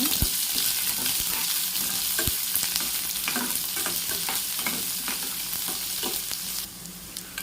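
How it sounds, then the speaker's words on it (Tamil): Small onions sautéing in hot oil with chana dal give a steady, dense sizzle, broken by occasional scraping stir strokes, close and continuous with no voices. "சின்ன சைஸ் வெங்காயம் எண்ணெய் சேர்த்துக்கலாம் சேர்த்துட்டு இதையும் நல்லா வதக்கிக்கோங்க"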